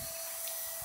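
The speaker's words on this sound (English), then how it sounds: "it's just my mum vacuuming." A vacuum cleaner drones steadily with a constant high whine, faint and continuous throughout.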